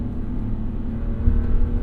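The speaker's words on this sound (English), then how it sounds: "let me use these paddle shifters. Go ahead and give me some downshifts." A 2025 Ram 1500 Rebel X engine hums low inside the cab, then briefly surges as a paddle-shifter downshift blips the revs near the end, on a snowy road.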